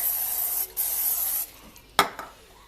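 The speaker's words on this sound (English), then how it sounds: "let's go ahead and spray this really quick" Two hissing bursts of cooking spray onto a waffle iron, the first longer and briefly interrupted, followed by a couple of faint clicks and handling noises.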